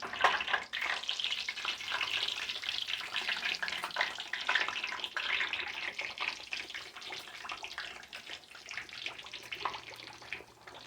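Steady, crackling sizzle of fish frying in hot oil on a stove, loud and continuous throughout with no voices.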